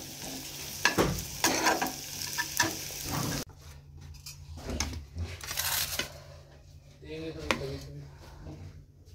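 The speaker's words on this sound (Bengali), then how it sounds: "আর এখানে আলু ফুলকপি ভাজা হচ্ছে।" Potatoes and cauliflower fry in a pan with a constant sizzle and occasional stirring clatter, while a voice talks faintly in the background during part of it.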